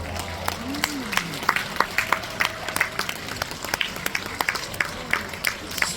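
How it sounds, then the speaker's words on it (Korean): Scattered, uneven clapping from an audience at a leadership forum as a humidifier's price is announced, individual claps distinct over a light background, with a voice briefly audible early on. "가격 발표할 때 왜 박수를 치시는 거예요?"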